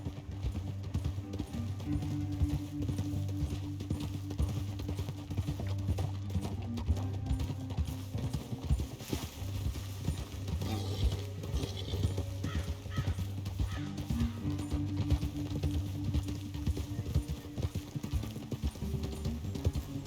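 Horse hooves gallop steadily in Red Dead Redemption 2, a continuous rhythmic clip-clop under dense game ambience and music, with the pace slowing briefly near the middle before resuming.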